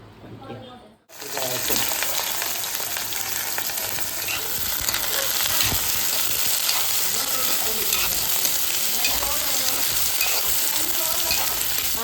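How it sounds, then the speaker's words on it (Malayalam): Eggplant sautéing in coconut oil in a pan, a loud steady sizzle that bursts in after a second of quiet and continues with stirring scrapes throughout. "ഇനി ഞാൻ ഇത് എളിച്ചെണ്ണ ഒഴിച്ച് ഇതൊന്ന് വഴറ്റാൻ പോവാണ്"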